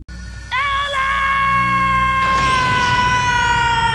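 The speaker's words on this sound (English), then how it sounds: "Marth's pathetic scream in this clip" Marth, a young male character in the English dub of the Fire Emblem anime, lets out a sustained high-pitched scream that rises and wavers over several seconds, loud and tonal, with a brief sharp break near the start.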